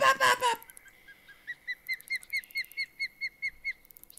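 A bird in the fishing game Fishing Planet gives a quick run of about a dozen clear, evenly spaced whistled notes, after a short burst of a voice at the start.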